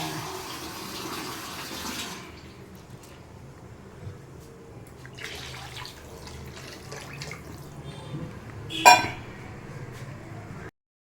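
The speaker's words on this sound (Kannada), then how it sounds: "ಎರಡು ಲೋಟ ನೀರು ಹಾಕಬೇಕು" Water poured into a cooking pot for a home-style rasam: a soft running splash that fades, followed by quiet stirring and a sharp metallic clink near the end, with no talk.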